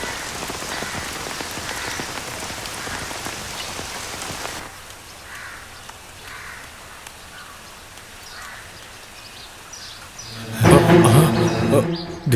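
Heavy rain falling outdoors near a temple tank, a loud steady patter and drumming on surfaces that eases midway, then a burst of louder sound and voices near the end.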